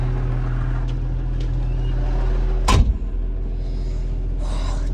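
A tractor pulls a disc harrow across a field during spring tillage in sixth gear, its engine holding a steady low drone from inside the cab, broken by one sharp bang partway through.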